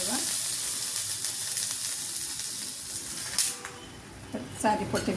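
Steady sizzling hiss of yeast-free kulcha dough cooking on a hot tawa, with occasional louder spatters and brief voices nearby.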